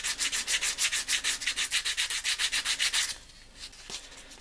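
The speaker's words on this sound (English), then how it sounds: "It will slide into the slot better by taking that burr off." A burr is sanded off an EPP foam part of a radio-controlled F-22 Raptor model jet with quick, rhythmic back-and-forth rubbing strokes, close and steady for about three seconds before stopping.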